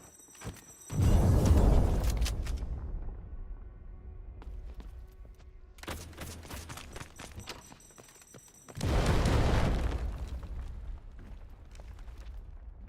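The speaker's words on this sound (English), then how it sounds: "Look out, grenade!" Two heavy grenade blasts from the Delta Force video game, each a loud, sudden boom that rolls off slowly; the second lands about eight seconds after the first, with a low rumble between them.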